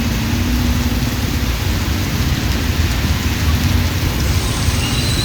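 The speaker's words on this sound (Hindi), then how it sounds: "तो सोचा जब मैं आई हूँ तो मैं आप लोगों को क्यों ना यहाँ की बारिश दिखा दूँ।" A heavy downpour in strong wind outside a mall during a thunderstorm gives a loud, continuous rushing roar with rough low rumbling underneath, close and unbroken for about five seconds, with no speech.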